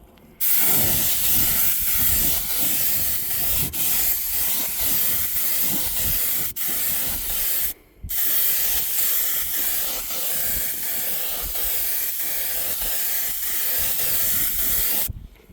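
Spray gun laying a second paint coat on a Humvee rear AC evaporator box, a loud continuous close hiss in two long passes separated by a brief pause.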